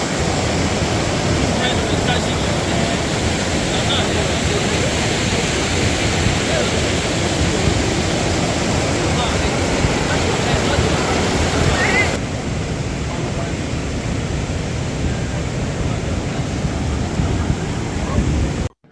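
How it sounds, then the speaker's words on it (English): Rushing water at the Dibombe waterfall in Cameroon roars loud and steady, a dense broadband wash close to the listener that slightly drops in level partway through. "let me let you hear the sound of this water just like as I'm hearing."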